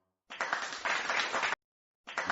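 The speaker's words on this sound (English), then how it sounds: "Round of applause for Kendrick Lamar holding it down." A burst of crowd applause: clapping that starts abruptly, runs steadily for about a second, cuts off, then starts again briefly.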